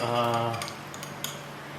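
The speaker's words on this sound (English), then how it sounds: "I'm just going to take some with a knife of this Griebenschmalz" A knife scrapes and taps against griebenschmalz lard, scooping it to spread on ciabatta bread, in a few light, close clicks and soft scrapes that follow a brief voiced sound.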